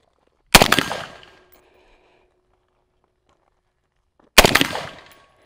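Two sharp, loud bursts of rapid gunfire from rounds fired on a range, each a quick rattling volley with a fading echo, separated by nearly four seconds of silence.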